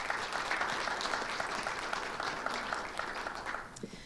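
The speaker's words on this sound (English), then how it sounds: "So a round of applause for our new inductees." A crowd applauds new inductees at a ceremony with steady, dense clapping that holds through the whole stretch before tapering slightly, moderately distant and alone without speech.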